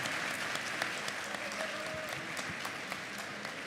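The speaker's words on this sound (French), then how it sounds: "J'aimerais que l'on commence par les applaudir très fort" A convention crowd at a French voice-dubbing panel for Dragon Ball Super claps steadily in a large room, a sustained wash of applause with scattered sharper claps and faint whistles.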